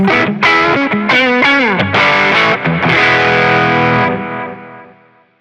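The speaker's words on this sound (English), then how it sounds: "And a distortion plus." Electric guitar played through the Distortion Plus model on a Zoom MS-50G multi-effects pedal, with loud gritty chords and sliding, bending notes that settle into one sustained chord before fading out.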